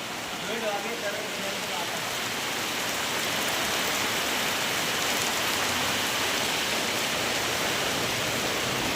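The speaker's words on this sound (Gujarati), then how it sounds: "વરસાદ ચાલુ છે પેલી બાજુ પણ" Continuous rain pours down over rice paddy fields throughout, a broad even hiss of water on surfaces, with a brief faint voice early on beneath it.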